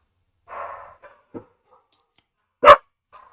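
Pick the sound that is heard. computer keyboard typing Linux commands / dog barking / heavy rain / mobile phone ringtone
dog barking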